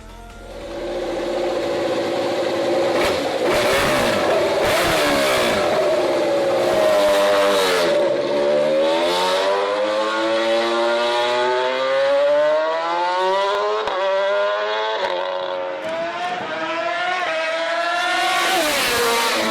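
A high-pitched racing motorcycle engine revs hard toward 20,000 rpm, its whine climbing and dropping repeatedly, loud and alone.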